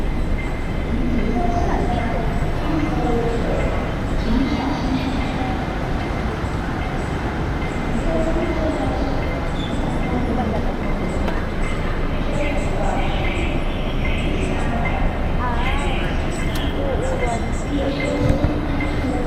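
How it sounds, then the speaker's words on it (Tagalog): A train in Hong Kong gives a steady, continuous rumble that fills the whole stretch, with people talking over it throughout. "Don't tell me, sasakay pa tayo ng train."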